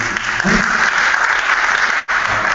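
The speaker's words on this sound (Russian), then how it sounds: "Видимо, аплодисменты должны здесь" Loud, dense applause from an audience at the Ёж-2014 forum's awards event, continuous with a brief dip near the end.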